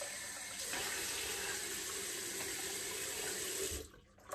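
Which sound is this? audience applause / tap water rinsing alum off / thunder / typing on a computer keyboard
tap water rinsing alum off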